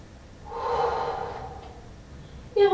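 A single deep inhale followed by a long exhale during a stretching class, close and fairly soft, ending with a sharp new breath drawn in; no talk over it.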